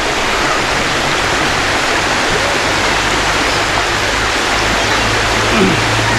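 Loud, constant rush of the Sedim River flowing close by, a dense unbroken roar filling the whole stretch without pause.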